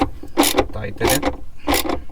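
Repeated ratcheting wrench strokes tightening the battery hold-down bracket on a BMW M235i, three loud close bursts of clicking with short pauses between them.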